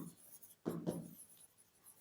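Pen or marker writing on a board sounds as one soft squeaky stroke burst in the middle, faint and close, with quiet room tone around it.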